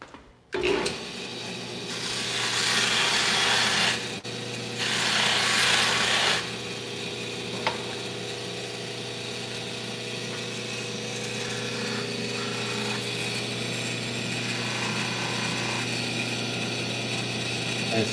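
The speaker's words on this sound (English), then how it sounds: "This is pretty much just an ordinary wheel with pink buffing rouge on it," A spinning buffing wheel loaded with pink buffing rouge polishes steel in a gunsmith's shop, giving a steady close whirring drone with two louder hissing passes of metal pressed against the wheel early on.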